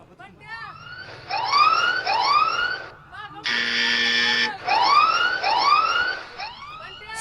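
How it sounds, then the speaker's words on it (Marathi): A siren at a tennis-ball cricket match signals a no ball: loud, rising electronic whoops come in pairs, broken midway by a steady harsh buzzer tone, over a low background murmur. "सायरनचा आवाज झालाय."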